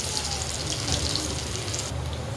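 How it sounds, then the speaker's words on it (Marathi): Fish fry with curry leaves in hot oil over a low flame, giving a continuous, even hiss and crackle at close range with no talking. "छान असे तळायला लागलेत मासे."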